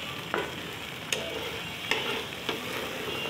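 Pabda fish curry with potato cooks down in a pan, a steady low sizzle punctuated by four evenly spaced scraping stirs of a spoon, close and quiet with no voices.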